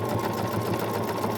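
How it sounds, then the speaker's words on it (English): A sewing machine stitching fabric darts runs in one short, continuous burst of rapid mechanical clatter, close and fairly loud, with no talking. "Back at the machine to sew up our darts."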